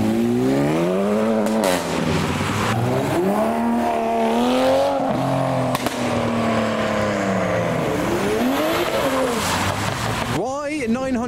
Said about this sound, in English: We've got revolutions, accelerations, and a Renault that isn't leaving even though the road's clear.